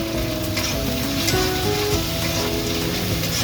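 Chili powder and turmeric spices frying in a pan, a continuous close sizzle with crackling hiss and faint stirring scrapes throughout, no talking.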